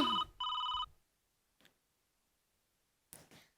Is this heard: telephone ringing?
yes